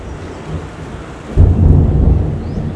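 Thunder rumbling after a rainstorm has eased, a low steady wash of rain and wind breaking into a loud, deep rolling peal halfway through that slowly fades.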